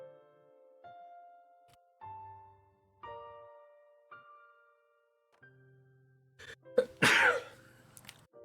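One sharp, loud sneeze bursts out near the end, after a series of soft, evenly spaced tonal notes.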